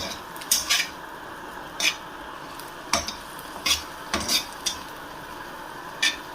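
Egg being broken up and stirred into frying rice in a pan, with a steady faint sizzle under about ten sharp scrapes and clinks of a utensil against the pan at irregular intervals.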